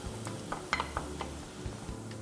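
Onion and garlic sizzle in hot oil in a pan while being stirred, with soft scraping and light clinks of a utensil against the pan over a low steady hiss.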